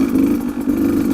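A 2019 Beta 200RR dirt bike engine lugs low and steady in second gear on a wooded trail, a loud, close, continuous drone with a brief dip in the middle.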